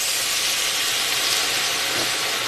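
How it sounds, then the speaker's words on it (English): Steam hisses steadily from a pot of cooking double beans rice, a continuous, fairly loud broadband hiss with no talking. "It's going to keep on steaming and steaming and steaming and steaming."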